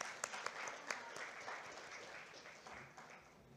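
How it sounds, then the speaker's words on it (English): Audience applause at a conference panel session, a few sharp claps up front swelling into a modest round of clapping that gradually fades, fairly quiet overall. "I request everyone to kindly give a round of applause."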